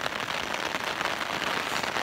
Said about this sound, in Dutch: En de regen hadden we al wel verwacht.